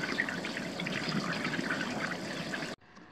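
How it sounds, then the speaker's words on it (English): Steady running water from a water pick wand rinsing Vetoquinol aloe and oatmeal shampoo from a dog's coat, a continuous close splashing stream that cuts off abruptly near the end. "I want to make sure that I rinse her off really good"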